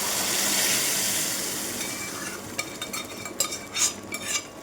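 Moong dal tipped into a pan with green chili paste and stirred, giving scraping, clinking spoon-against-pan sounds that grow busier and louder toward the end, with no talking.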